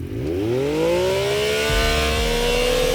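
A 2021 Yamaha YXZ1000R SS SE side-by-side's inline three-cylinder engine revving in launch control on a lake bed, pitch climbing quickly to a loud sustained high wail near 10,000 RPM and holding there.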